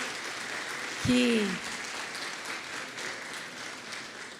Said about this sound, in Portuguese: Nós queremos pedir uma salva de palmas para o doutor Naor